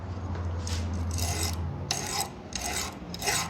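Sanding a plastic car key shell by hand, with repeated rasping strokes in irregular bursts, close and moderately loud over a low hum, no talking.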